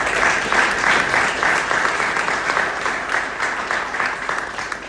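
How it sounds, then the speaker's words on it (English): Audience applause at a colonel's retirement ceremony at Falcon Dunes, right after the national anthem: a dense, steady wash of many hands clapping, loud and sustained, fading slightly toward the end. "Have a round of applause."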